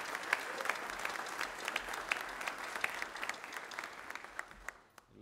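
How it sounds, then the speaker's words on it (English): Audience at an evening concert by a chorus applauding, a dense, even patter of clapping that fades away at the end. "So I'd like to give them a round of applause and thank you."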